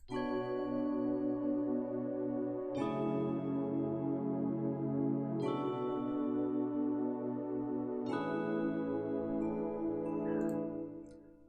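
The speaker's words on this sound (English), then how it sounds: "There's that piano right here." Four sustained piano chords in Cakewalk by BandLab, processed with EQ, reverb and delay, each struck about every three seconds and left to ring out in a washy, echoing tail, with no voices.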